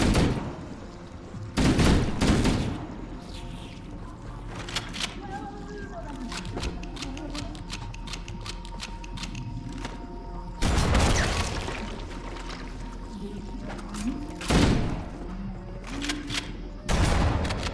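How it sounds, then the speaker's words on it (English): Shotgun blasts and explosions from the video game Halo: Combat Evolved, several loud booming shots spaced out over continuous battle noise, with faint scattered gunfire in between. "Waste of a shotgun shot, but I had to take the shot."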